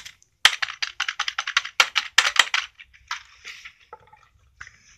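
A gaming-style keyboard with deep, springy keys being pressed in a quick, uneven run of sharp, close clicks, then softer taps toward the end, with no voices.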